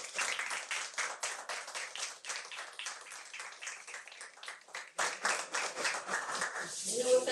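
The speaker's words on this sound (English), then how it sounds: "We're gonna give you a round of applause after you get your picture taken." Applause and clapping for students at a school photo gathering, a steady patter of many hands that runs the whole stretch and swells slightly toward the end, fairly close and moderately loud.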